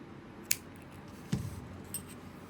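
Scissors snipping the yarn tail of a crochet scrunchie: a couple of faint, brief clicks and snips, close and quiet, heard alone.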